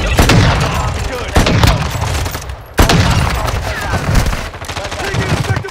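Loud, close rapid gunfire in Call of Duty Warzone, continuous bursts punctuated by a few sharp heavy cracks, with voices faintly underneath.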